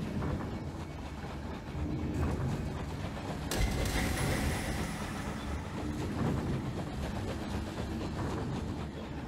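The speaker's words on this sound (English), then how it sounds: "I like the factory is making train noises." Steady rumbling, rattling train-like machinery noise from a factory in the game Night in the Woods, a continuous loud drone with a sharp metallic clank partway through.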